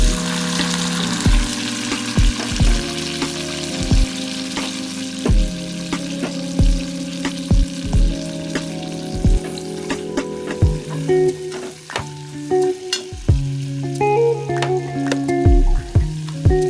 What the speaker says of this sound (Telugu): ఉల్లిపాయ ముక్కలు, పచ్చిమిరపకాయ ముక్కలు, కరివేపాకు వేసాను.